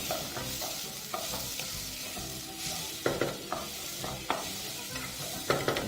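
Chunky tomatoes with onions and garlic simmer and sizzle in a pan while being stirred, with steady frying hiss and several sharper scraping knocks of the utensil against the pan, no voices.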